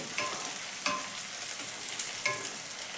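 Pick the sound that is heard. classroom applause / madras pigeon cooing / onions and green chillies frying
onions and green chillies frying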